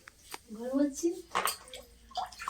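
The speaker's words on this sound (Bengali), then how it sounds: "বাড়ি তো একদম ধুয়ে মুছে পরিষ্কার চকচকে করে দিচ্ছিস" Water splashes and sloshes as a house is washed and mopped clean, a steady wet swishing heard close by while voices talk over it.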